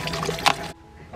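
Fruit being rinsed under running water, a steady splashing flow for most of a second with a brief brighter splash, then stopping abruptly into near quiet.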